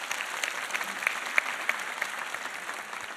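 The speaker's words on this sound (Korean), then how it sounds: "박수 해줍시다. 박수." A church congregation claps during a sermon, a short burst of dense, fairly faint applause from a crowd of hands with no voices over it.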